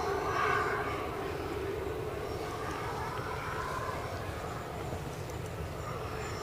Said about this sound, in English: So we will finish with the departure of this 350.